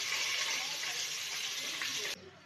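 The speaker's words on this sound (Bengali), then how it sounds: "আর আমি আগে থেকে পোলাও চালটা ধুয়ে রেখেছিলাম এবং আমি পোলাও চালগুলো দিয়ে দিচ্ছি।" Washed polao rice pours into a pan of fried onions with a steady hissing rush that cuts off abruptly near the end.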